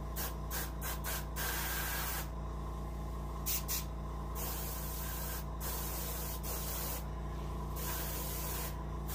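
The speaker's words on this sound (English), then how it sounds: "This is controlled spray right here." Steady hiss of an airbrush spraying paint onto an Arctic char taxidermy fish, broken by several short pauses as the trigger releases, over a constant low compressor hum.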